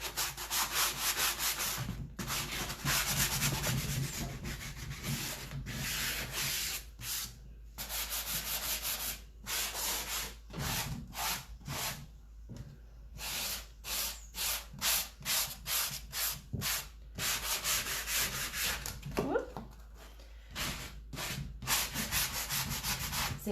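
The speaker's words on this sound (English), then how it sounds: "So I'm just going to sand." Hand sanding of painted wooden furniture, rapid rhythmic scratchy strokes in bursts separated by short pauses, close up and steady, with no talking.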